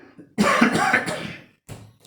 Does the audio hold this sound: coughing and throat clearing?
yes